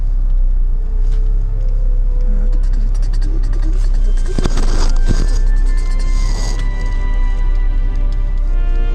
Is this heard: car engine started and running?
yes